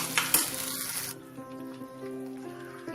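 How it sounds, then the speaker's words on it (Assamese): Spice paste with coriander frying in a pan over low heat gives a bright sizzle in the first second, then settles into a softer, steady crackle, close by with no talk. "কম জুইত আমি এইখিনি অলপ সময় ভাজিম"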